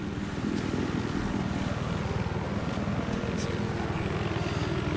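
A military helicopter from the shooter Battlefield 4 drones steadily with a dense, rapid rotor chop, close and loud throughout, without breaks or talk.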